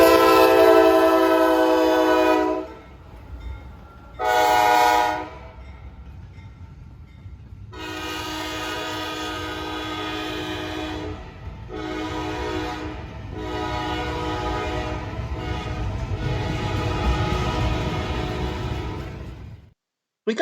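An intermodal freight train rumbles past while its horn sounds several loud, harmonic blasts of varying length, with steady rolling rail noise underneath until it fades out near the end.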